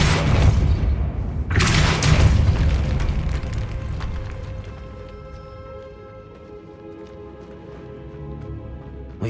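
A Depulso spell cast in the Hogwarts video game lands as a loud, deep booming blast with a sharp onset, then a rumbling tail that fades over several seconds, with no voices.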